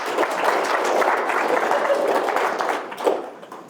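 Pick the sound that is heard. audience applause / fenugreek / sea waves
audience applause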